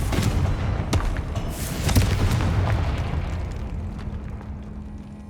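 Confringo explosion spell cast in the Hogwarts Legacy video game, a series of booming blasts and sharp bursts over a dense rumbling game soundscape, loud at first and tailing off into a low hum.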